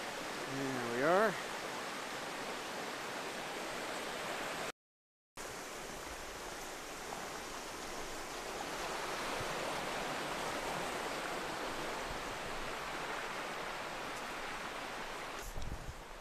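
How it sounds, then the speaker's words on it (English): A creek in the Great Smoky Mountains along the Smokemont Loop Trail in January rushes steadily as a broad, even wash of flowing water, with a brief voice near the start and a short dropout partway through. "And here's our obligatory look at the creek."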